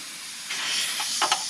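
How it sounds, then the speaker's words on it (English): Compressed air hisses steadily from a badly leaking pneumatic air hammer in a garage where Jeep control arm bushings are being worked on, with a couple of short louder spurts near the end and no talking. "this is the leakiest air hammer known to man"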